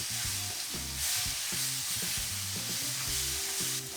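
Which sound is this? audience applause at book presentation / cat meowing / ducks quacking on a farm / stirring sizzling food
stirring sizzling food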